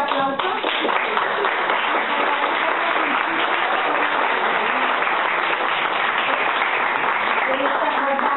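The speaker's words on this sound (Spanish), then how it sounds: "Le damos un fuerte aplauso." A hall audience applauds at a book presentation, a steady, loud and dense burst of clapping that carries through the whole stretch without letting up, with the top end sounding muffled.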